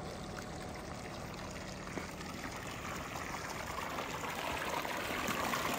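Water gushes under pressure from a solar-powered 15 hp tubewell pump in Punjab, Pakistan, a steady rushing stream that holds even and continuous throughout, with no voices.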